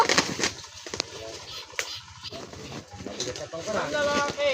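Ducks being caught quack and squawk in loud bursts close by, mixed with excited chatter from people nearby.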